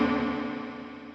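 Bend fuzz effect from a Hotone Ampero amp modeler and effects processor on an electric guitar, a sustained distorted tone held steady and fairly loud through the whole moment, with no voices over it.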